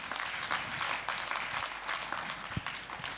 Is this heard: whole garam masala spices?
no